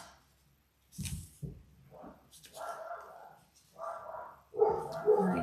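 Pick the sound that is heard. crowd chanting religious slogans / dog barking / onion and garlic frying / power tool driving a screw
dog barking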